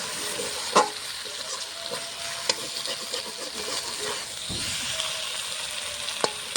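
Potatoes sizzle and fry in a pan as they are stirred during slow braising, a continuous crackling hiss punctuated by a few sharp scrapes and clinks of a utensil against the pan.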